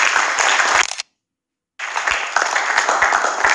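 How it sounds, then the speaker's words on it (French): Dense applause from a crowd at an awards show, cut off by a brief silence, then resuming just as loudly and steadily. "Est-ce qu'on peut applaudir pour l'artiste, mesdames et messieurs?"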